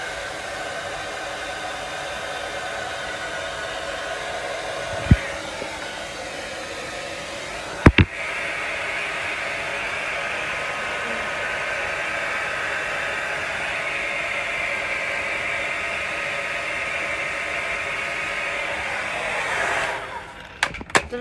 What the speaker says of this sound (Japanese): ドライヤー助かる？